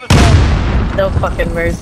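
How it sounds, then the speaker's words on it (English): Loud video game gunfire bursts in with a heavy blast at the start, then rumbles and decays while someone speaks over it. "Oh, gunshot."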